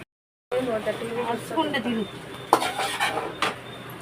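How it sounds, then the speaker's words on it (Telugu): Masala being stirred into Yippee noodles in a pan, with a utensil scraping and clinking against the metal in steady strokes while a person talks over it. "మొత్తం మసాలా అంతా కలిసే విధంగా తిప్పుకోండి"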